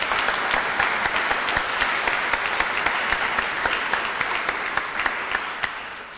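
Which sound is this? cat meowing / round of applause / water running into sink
round of applause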